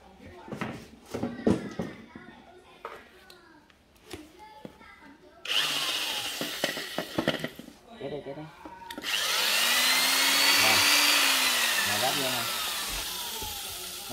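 A Makita multi-function power tool runs as a jigsaw, with several short starts broken up by someone talking, then a longer loud, steady buzzing cut near the end.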